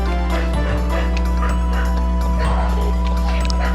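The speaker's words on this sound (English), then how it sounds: "Oh, there go the dogs again." Dogs bark and yip repeatedly in the PlayStation game Koudelka, scattered short barks layered over a steady droning game soundtrack.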